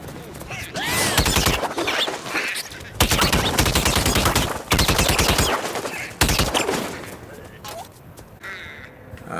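Rapid bursts of Plants vs. Zombies Garden Warfare 2 gunfire from a fire-variant Imp's double-shot weapon, sharp repeated shots in quick pairs, loud and close, with brief pauses between volleys.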